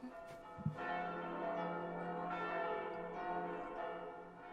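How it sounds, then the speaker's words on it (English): Church bells ring out in an anime episode, with a loud, sustained metallic peal and rich overtones that swell and linger over a steady resonant drone, with no talking over them. "Bells are always like a sign of impending doom."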